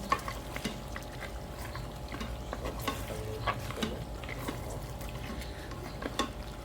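Goat head meat is stirred and fried with spices in a pan, producing a dense, steady sizzle close by with continual scraping and clinking of a spatula against metal, and no talking.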